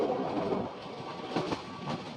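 A train runs through the Gir forest in Gujarat, pushed from behind by a locomotive while the front locomotive sits failed. It gives a steady, fairly close rumble with rhythmic wheel clatter, heard alone.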